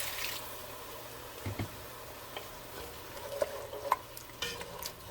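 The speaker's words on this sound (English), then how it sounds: "Get all this fond scraped off the bottom of the pan." A utensil stirring and scraping browned fond off the bottom of a pan after a splash of water is added for chicken and yellow rice, soft sizzling with scattered scrapes and clicks.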